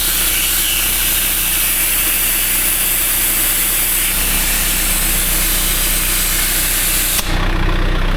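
Air hose at about 180 PSI inflating the rear tire of a John Deere backhoe, a loud, steady, close hiss of rushing air that shifts in tone near the end.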